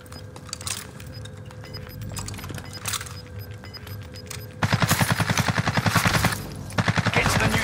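Rapid automatic gunfire in the battle-royale video game Rebirth, with steady distant shots at first, then loud close bursts of regular repeated shots from about the midpoint on, over game ambience.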